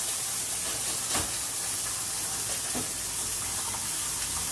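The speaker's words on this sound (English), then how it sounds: "my water is boiling" Water boils in a pan on a stove, a steady, dense hiss of bubbling at low volume that runs unbroken throughout, with faint occasional knocks.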